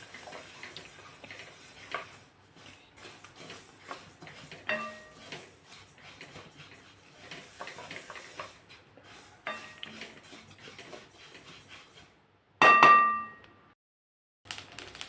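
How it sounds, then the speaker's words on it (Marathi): Karal (niger) seeds dry-roast in a hot kadhai over low heat, giving faint, scattered ticks and light crackles with occasional small metallic taps, then a brief, louder clang of the pan near the end. "आता व्यवस्थित भाजत आहे बघू शकते मस्त असा आवाज यायला लागलाय"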